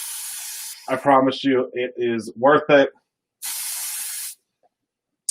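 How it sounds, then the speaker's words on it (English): Pixie Spray repositionable stencil adhesive hisses from an aerosol can in two short, close bursts. A person talks briefly between the sprays. "So we'll pixie spray all of these real quick."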